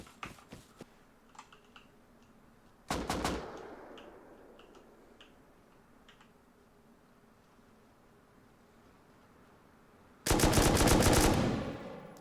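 Gunfire in the survival video game Rust: a short burst of rapid automatic shots, then a longer, louder sustained burst near the end, with faint clicks and quiet gaps between.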